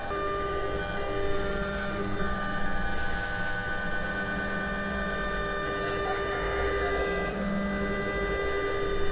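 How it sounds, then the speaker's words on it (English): A homemade large CNC router, driven by a rotary spindle tool, runs steadily with a continuous mechanical hum and whine that holds at a constant loud level throughout, with no voices present. "that is the whole CNC machine working"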